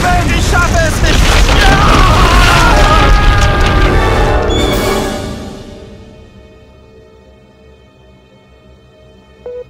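Ground breaking open in a German radio drama effect: a loud, deep rumbling boom with crashing debris that roars for about four seconds, then fades into a low, fading rumble and near quiet.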